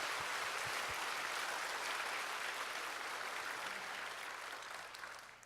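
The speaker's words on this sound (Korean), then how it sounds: "박수 한번 하실래요?" Church congregation applauding after a hymn at a Sunday service, a steady broadband wash of clapping that holds for about five seconds and fades slightly at the end, with no talking over it.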